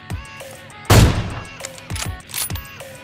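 Sharp sniper rifle shots ring out in PUBG Mobile, a loud close report followed by several quicker pops and mechanical clicks, with short gaps between them.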